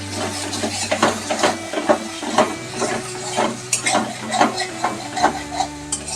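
Potatoes and rui fish in poppy-seed gravy cook covered in a pan, the oil separating as they sauté, with a soft steady sizzle and repeated scraping and tapping as the mixture is stirred.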